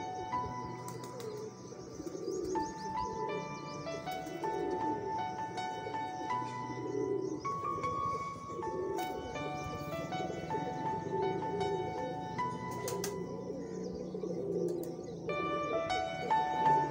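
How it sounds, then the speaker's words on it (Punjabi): Pigeons coo softly in a loft among other bird chirps, with a steady background of repeated bird calls over about seventeen seconds and no clear talking. "ਪੰਤਾਲੀ ਨੰਬਰ ਕਬੂਤਰ ਦੀ ਆ।"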